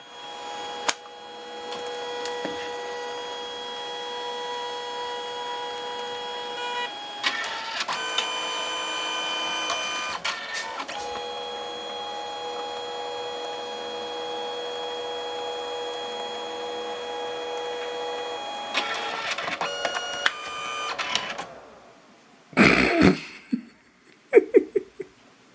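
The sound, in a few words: small photo printer printing a selfie photo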